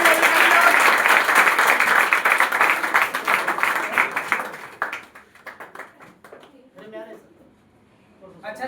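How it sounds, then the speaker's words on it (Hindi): Loud, dense applause from the audience at a Bihar Board topper felicitation ceremony at a coaching centre, sustained for several seconds before thinning into scattered claps and fading as voices begin to talk. "इनके लिए भी फिर जोरदार तालियां होनी चाहिए"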